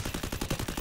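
An UMP submachine gun fires a rapid automatic burst in the Free Fire video game, with about a dozen evenly spaced, punchy shots in under a second, loud and close.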